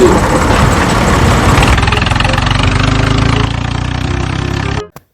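A vehicle engine left running roars loudly and continuously at close range, revving hard with a rough, throbbing drone before cutting off abruptly at the end.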